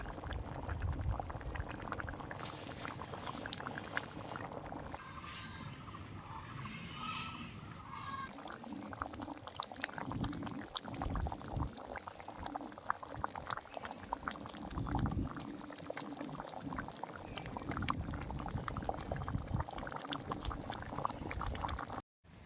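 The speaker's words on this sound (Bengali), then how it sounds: "ডালটা কি সুন্দর ফুটছে" Steady bubbling and simmering of a pot of ridge gourd dal boiling on the stove, continuous gurgling throughout with no voices.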